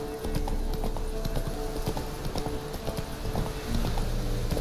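Roach the horse gallops in The Witcher III, a rapid, steady clip-clop of hooves at close range, loud and rhythmic throughout with faint game ambience behind.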